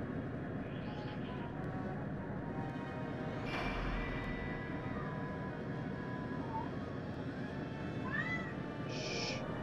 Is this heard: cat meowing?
yes